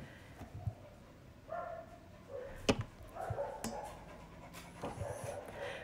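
A black dog barks and pants after sunset, a few faint, irregular barks and yips spread through quiet background with soft breathing between them.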